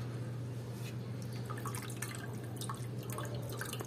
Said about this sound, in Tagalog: Tapos yung sobrang tubig, siyempre tapon na yan.